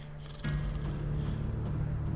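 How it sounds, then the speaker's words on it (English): Nibbles the cat purring in The Witcher 3 game, a steady low rumbling purr that starts abruptly and continues close and even, with faint ambient game sound beneath. "Nibbles, you's a naughty kitty, aren't you?"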